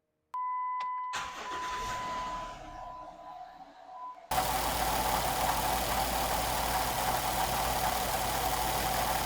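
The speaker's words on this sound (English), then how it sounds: "So now we just need to turn the Jeep on" A Jeep Wrangler JK with a 3.8 engine is cranked and starts, then settles into a steady, loud idle that carries a persistent engine noise, close up with no talking.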